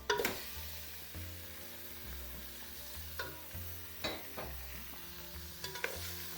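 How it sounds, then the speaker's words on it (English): Lamb sizzles and fries in a pan with onions for do pyaza while a utensil scrapes and stirs it, giving several distinct scraping strokes over a continuous crackling sizzle. "And fry that, stir that I meant."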